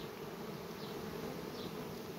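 Red honeybees hum at the hive entrance during the sunflower nectar flow, a dense continuous buzz with a few louder bees passing close by the microphone.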